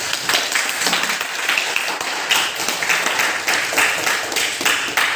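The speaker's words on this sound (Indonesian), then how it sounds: "Baik, tepuk tangan untuk kalian semua." Sustained applause from a classroom group, dense steady clapping that holds at an even level throughout with no break.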